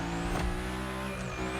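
A car drifting through a gymkhana course in The Crew Motorfest, a steady engine drone with a sustained tire squeal sweeping up and down in pitch, loud and continuous.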